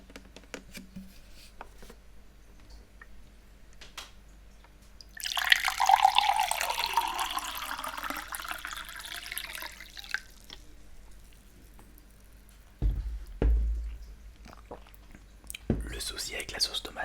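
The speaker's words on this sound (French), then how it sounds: "on va se verser un petit verre d'eau." Water poured into a drinking glass at a kitchen table while tomato-sauce pasta is prepared, a steady close splashing stream lasting about five seconds, followed later by soft handling knocks.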